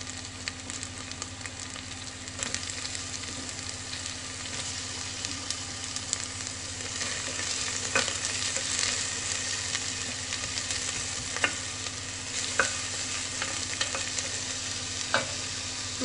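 Onion and garlic frying in oil, a continuous close crackling sizzle with occasional louder pops and light stirring scrapes throughout, no talking.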